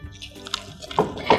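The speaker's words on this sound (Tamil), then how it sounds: "இப்போ வந்து இது அழகாக மிக்ஸ் பண்ணிடலாம்." Banana chocolate bread batter being stirred in a bowl gives brief wet, squelchy strokes, with two louder squishes close together near the end.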